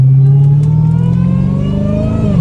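A Dodge Hellcat Redeye's engine roars loud and close while the car drifts, holding a sustained high rev that climbs slightly and then eases off near the end.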